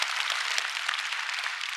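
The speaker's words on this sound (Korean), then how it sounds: "우리 한번 박수해 주시길 바랍니다." Steady congregational applause during a Korean church Sunday worship service, a dense, even patter of many hands clapping, moderately distant and continuous throughout.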